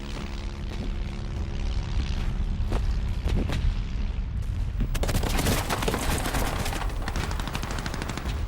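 Artillery barrage on the Somme front line in the First World War: a continuous, loud rumble of guns with sharp reports early on, thickening after a few seconds into dense, rapid overlapping bursts of fire.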